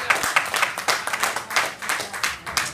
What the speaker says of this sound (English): clap your hands for the announcements.